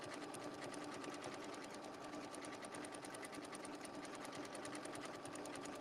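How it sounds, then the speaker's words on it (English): A sewing machine stitches binding onto fabric using a circle sewing tool, a steady, continuous rapid whirring hum with a fast even stitch rhythm, close and constant throughout. "I'm even going to put on my binding with the circle sewing tool."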